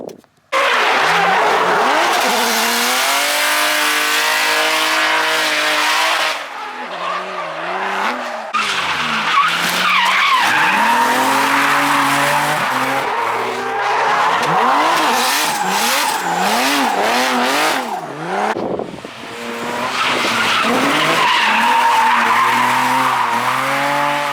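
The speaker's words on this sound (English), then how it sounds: "Drifting. What else?" A BMW E46 drifts with long, loud tire squeals and skidding over a revving engine, sustained and close with short breaks as the car shifts direction.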